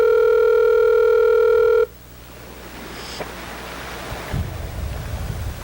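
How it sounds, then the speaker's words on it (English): A telephone ringback tone from an outgoing call plays loud and steady for a couple of seconds, then cuts off, leaving open outdoor ambience near water with wind and faint surf. "I'm calling Fred the producer"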